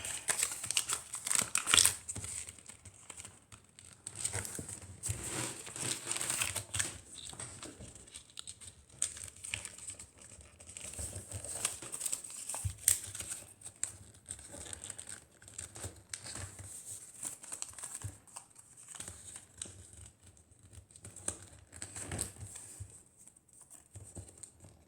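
Sheets of origami paper are folded for a leaf, giving close, repeated crinkles and crisp rustling creases in uneven bursts, with no talk.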